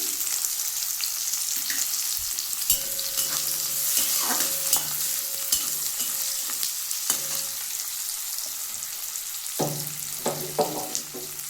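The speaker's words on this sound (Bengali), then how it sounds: "এটা একটু ভেজে নেব এবার এর মধ্যে পেঁয়াজ দিয়ে দিলাম" Onions fry in oil with chopped garlic for a radish greens fry, giving a steady close sizzle broken by stirring scrapes and clinks of a spoon against the pan.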